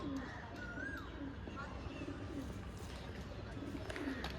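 Soft, repeated cooing of black-beaked pigeons at close range over a constant background hum, with a few faint chirps in between.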